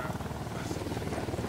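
A helicopter in the video game Ghost Recon Wildlands, a close, steady rhythmic rotor thump with a whine of engine noise throughout.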